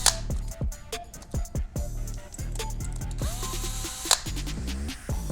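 Screws on a Falcon gear drive motor plate driven with a power screwdriver, repeated short ratcheting bursts and whirring clicks, close and loud with no talking.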